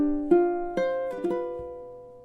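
Ukulele plucking a short passage from a Christmas song lesson, a few clear ringing notes struck in sequence and left to decay slowly, close and alone without talk.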